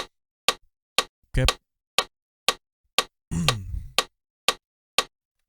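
Metronome clicking steadily at 120 BPM, sharp evenly spaced ticks about half a second apart, close and crisp, with a short spoken word and a brief noisy rustle between clicks.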